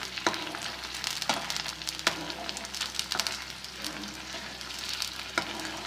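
Aloe vera pieces frying over a low flame, a soft steady sizzle with occasional light taps and crackles, fairly faint and close.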